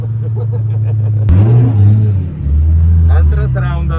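A BMW drift car fitted with a Mercedes AMG engine revs loudly and steadily close by, its pitch swelling and dropping once midway before holding again.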